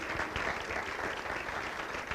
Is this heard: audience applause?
yes